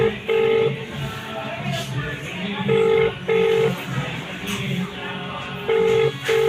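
Repeated telephone ringback tones from an unanswered call, evenly spaced beeps recurring over a noisy background with a voice talking.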